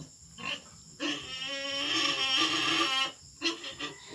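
Weaned piglets on a backyard pig farm, a week after weaning, grunting and squealing up close in short bursts with one longer sustained squeal in the middle.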